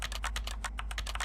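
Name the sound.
keyboard typing sounds in a video game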